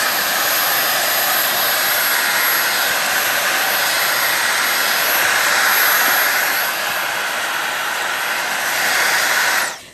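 A Dyson V8 cordless vacuum cleaner runs loud and close for the whole stretch, a steady high-pitched motor whine over broadband airflow rush, easing off only at the very end.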